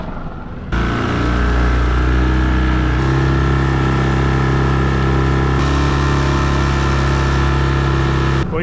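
A knockoff Yamaha outboard motor idles steadily during break-in, a loud, close, smooth low drone with an even rhythm that holds unbroken from start to finish.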